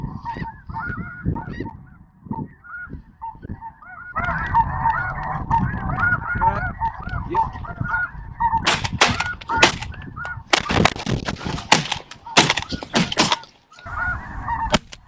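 Snow geese honk in a loud, dense flock chorus during a goose hunt, building steadily and punctuated by several sharp, loud broadband cracks toward the end.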